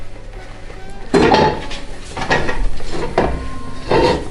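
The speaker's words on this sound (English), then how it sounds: "Now we're going to put on this pot here." A cooking pot set down and handled on a stove while preparing Jamaican chicken dishes, giving several separate clanking, scraping bursts of metal and wood contact at close range, with no talking.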